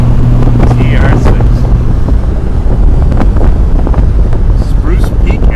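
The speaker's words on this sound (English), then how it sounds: "Driving the country roads in a TR6." A 1974 Triumph TR6 sports car driving on winding country roads through the mountains around Stowe, Vermont, its engine buried under heavy buffeting wind noise, loud and constant throughout.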